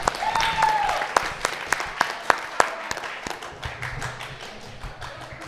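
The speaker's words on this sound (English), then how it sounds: "Round of applause for Eli." A small audience at a Sedro-Woolley Taskmaster event gives Eli a round of applause. Loose clapping with a few sharp, close claps stands out, a whoop rises at the start, and chatter continues as the clapping thins out.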